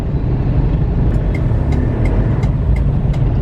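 A steady engine rumble fills a ride aboard a jeepney in the Philippines, loud and continuous from start to finish, with faint high clicks scattered above it and no talking.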